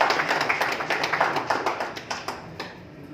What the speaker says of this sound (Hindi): जोरदार तालियां भाई। हर सामाजिक कार्यक्रमों का बहुत ताली होता है।